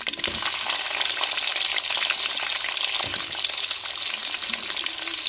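Curry leaves and chopped onions frying in hot oil in a pan for a dried-fish curry, a loud dense continuous sizzle and crackle heard up close, with faint stirring scrapes and no voices.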